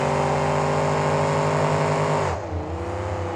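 Hemi-powered monster trucks in a KORR Monsters racing final roar at full throttle out of a turn, a loud, steady, close engine drone that drops in pitch and eases slightly near the end.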